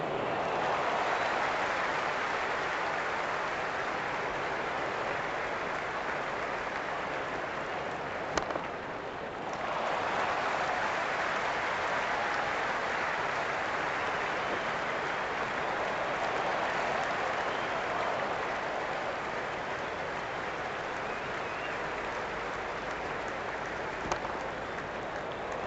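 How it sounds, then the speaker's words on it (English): Steady, broad crowd applause and roar from a virtual cricket stadium in Cricket 26, India against Namibia at Delhi in a T20 World Cup match, continuous and full throughout with a brief dip midway. "There's an almost tangible fervour throughout the crowd at the moment."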